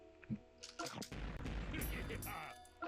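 Bahamut's blast in a video game, a heavy rumbling explosion that swells and lingers for about two seconds after brief bursts, heard under a voice.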